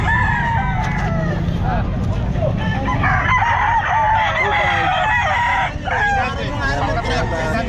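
Gamecock rooster crowing repeatedly at a busy Calumpit pet market, loud and close, layered over the steady murmur of crowd chatter and other fowl clucking in the background.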